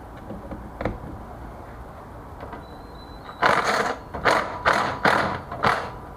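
Socket wrench ratcheting off the 8mm heat shield bolts on a Predator 212 engine, a run of five loud, close rasping bursts following a few softer clicks and taps.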